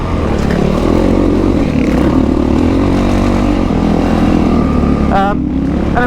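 A Yamaha WR450F dirt bike engine roars close and loud throughout, a steady droning rumble with a rising whine near the end; a voice speaks over it.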